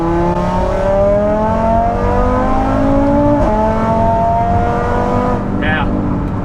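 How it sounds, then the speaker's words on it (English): Big-turbo Audi RS3 drag-racing setup running with rising engine pitch through several gears, loud and continuous with smooth shifts, heard from inside the car with a voice faintly present underneath. "show you guys what the car sounds like, what it moves like"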